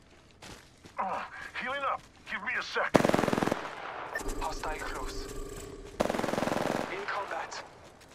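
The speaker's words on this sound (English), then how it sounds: "The enemies are shooting at me." Enemy gunfire in the battle royale game Apex Legends arrives in loud, sustained automatic bursts, two long volleys and a dense stretch between them, mixed with game effects and a player's voice in quieter moments.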